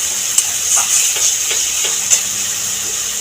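Masala spice paste frying in a pan for malai katla, a steady close sizzle with faint scraping stirs and small pops, no voices.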